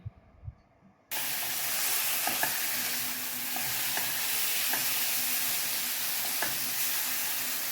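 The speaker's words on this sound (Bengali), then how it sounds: "মশলাটা ভালোভাবে কষানো হয়ে গেছে, খুব সুন্দর একটা গন্ধ বেরোচ্ছে মশলা কষানোতে।" Spice paste being sautéed in a pan for a Bengali-style Mrigel fish curry: after a quiet start, a sudden loud, steady sizzle and hiss fills the sound, with occasional light spatula taps against the pan, close and without speech.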